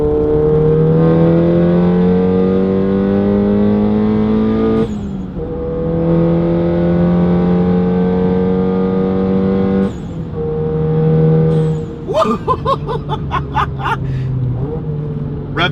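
Close, loud engine note of a VW MK7 GTI with a BFI Stage 4 clutch kit, holding steady, then dropping and blipping back up at each gear change. Two clear shifts are followed by choppier revving toward the end.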